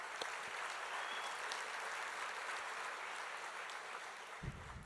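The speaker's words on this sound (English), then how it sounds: "just if we can pause just a moment to give them a round of applause" A conference audience at the 2017 ACS Quality and Safety meeting gives a steady round of applause, dense even clapping from a large room that carries on for several seconds before fading near the end.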